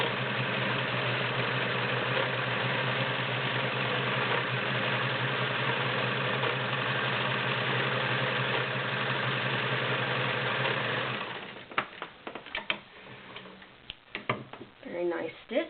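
A vintage Kenmore model 1753 cam sewing machine stitches at a steady, loud, continuous whir for about eleven seconds, then stops and gives way to scattered clicks and handling knocks.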